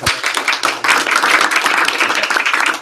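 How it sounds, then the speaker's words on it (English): A training session audience claps loudly together, a dense continuous burst of applause heard up close throughout. "Clap loud for people here"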